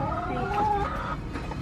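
A brown chicken in a front yard garden clucks and gurgles close by, a throaty, warbling run of calls with a brief louder note in the middle, alone without talk.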